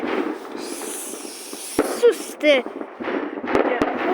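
New Year fireworks go off in a scattered sequence: sharp cracks and thumps, a couple of whistling bursts, and a fizzing crackle between them, echoing from a moderate distance.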